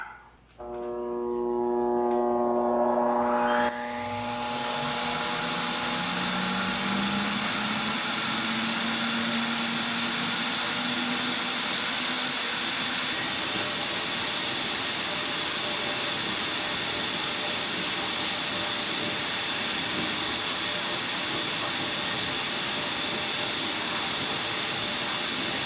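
Air rushes through a Holley 750 four-barrel carburetor with throttles held wide open on a flow bench, a steady loud roaring hiss with a motor whine that spins up over a few seconds, then holds constant.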